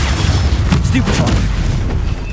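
A Stupefy spell cast in Hogwarts Legacy combat: a loud, booming magical blast with crackling bursts over a heavy, continuous low rumble.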